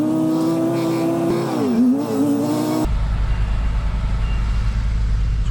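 A Class 2 truck's diesel engine drones steadily while reversing, its pitch dipping and rising before shifting to a loud, constant low rumble.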